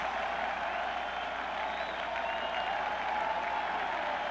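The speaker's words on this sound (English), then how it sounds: "this crowd is on its feet to celebrate a Michigan victory" Stadium crowd at a 1984 Illinois at Michigan college football game celebrating a Michigan victory: a steady, dense wash of cheering and applause that holds at an even level throughout.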